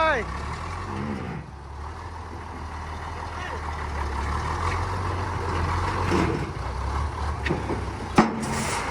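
A truck engine rumbles low and steady as it pulls away, with a faint rise in revs and people talking over it.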